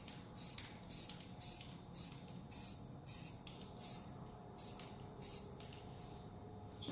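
Short bursts of spray paint hiss out in a steady rhythm over a red 1983 Oldsmobile Cutlass Supreme part, roughly a dozen quick passes, each a bright hissing puff at close range, with no voices.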